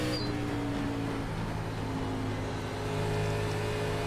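Race car engine in the iRacing ARCA Menards Series at Indianapolis drones steadily at moderate, faint level, a continuous simulated motor hum with no talking over it.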